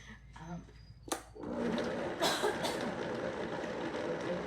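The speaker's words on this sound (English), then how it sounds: "you're just going to turn the Vitamix on, or blender" A Vitamix blender whirs through cashews for vegan sour cream, a loud steady motor roar that starts after a few short clicks and knocks and runs on, close and continuous.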